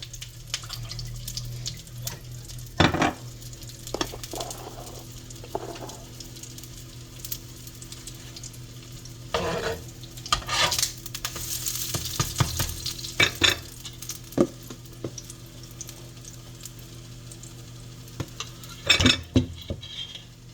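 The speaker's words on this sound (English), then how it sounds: "I will turn these steaks over once they start sizzling good." Minute steaks frying in a pan give a steady sizzle, with occasional clinks of cutlery and short stirring or scraping noises over it. There is no talk.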